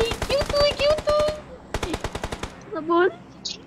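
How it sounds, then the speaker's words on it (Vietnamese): Rapid automatic gunfire rattles in a burst during a PUBG Mobile match, mixed with loud, excited voices talking over the game sound. "Đừng bắn vào chiếc xe."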